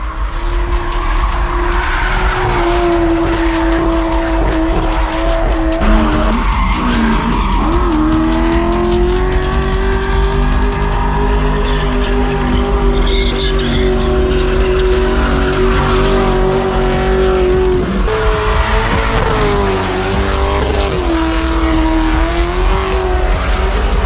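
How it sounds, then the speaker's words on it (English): Drift cars at Rockford Speedway skid with long, loud tire squeals, sliding pitches over a roaring engine that continue without a break. "We have a drifting competition happening right now."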